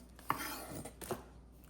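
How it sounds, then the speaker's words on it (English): Kitchen knife trimming the tails and heads off fresh okra on a board, two or three short, soft, close chopping taps with quiet pauses between them, no talk. "right now I'm just cutting the tail off and the head off, and I lump up a bunch of these okra"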